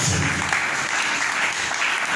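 A congregation in an evangelical church applauds in a steady, dense wash of clapping that holds for the whole stretch.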